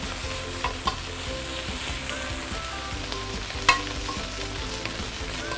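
Bean sprouts stir-fried in a hot wok for Singapore Hokkien prawn mee: steady sizzling with scraping spatula strokes and a few sharp clanks, close and continuous, no talking.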